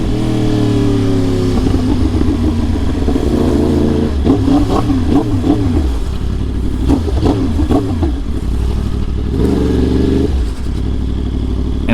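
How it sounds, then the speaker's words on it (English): Motorcycle revving repeatedly while lane splitting through stopped highway traffic in Houston, loud and close, with rising and falling engine pitch in several bursts over the steady hum of surrounding traffic. "I'm lane splitting, man."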